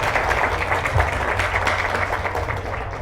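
A congregation in a church applauds a priest with a dense, continuous roar of clapping that holds steady and close throughout.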